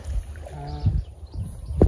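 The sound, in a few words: rowing a wooden boat on water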